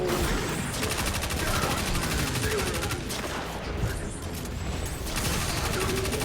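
Rapid, repeated weapon fire from a Titan's slug shotgun in Destiny 2 during a heroic strike fills the mix, a dense, loud, steady barrage with mechanical clatter and little pause.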